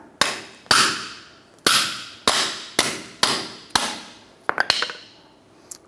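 Eight sharp metallic hammer strikes on a ball joint press cup, removing the upper ball joint of a 2008-2012 Honda Accord, land in an uneven rhythm, each ringing briefly, with a quicker cluster of lighter taps near the end.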